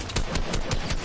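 Rapid bursts of video game gunfire crackle through a busy battle royale match, several quick shots in a steady rhythm, loud and close.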